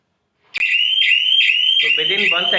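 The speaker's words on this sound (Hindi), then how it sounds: "विद इन 1 सेकेंड या 2 सेकेंड मेरे सिस्टम ने अलार्म कर दिया।" A PIR multi security system alarm at an office door bursts on suddenly: a loud, piercing, repeating electronic siren that rises in pitch with each cycle, with a voice joining partway through.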